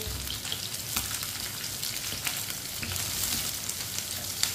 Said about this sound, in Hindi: प्याज को भी 2-3 मिनट के लिए पका लेंगे।